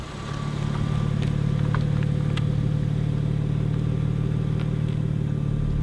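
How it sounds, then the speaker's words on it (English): A BMW M2 G87 runs hard on a closed stretch of road during an acceleration test, its engine a loud, steady drone that holds throughout with faint clatter on top. "let's test out this M2's claimed acceleration figures"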